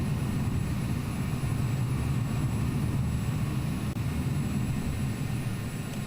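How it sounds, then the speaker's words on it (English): A jet aircraft taking off in Microsoft Flight Simulator 2020, heard from the ground near parking as a steady, loud low engine roar that holds unbroken throughout. "Yep, there goes a jet there."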